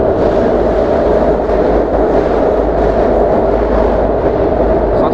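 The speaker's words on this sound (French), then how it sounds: "On est sous un pont de métro, et le métro vient de passer." A metro train rumbles across a bridge directly overhead, a loud, continuous roar with rattling wheel noise that holds steady throughout.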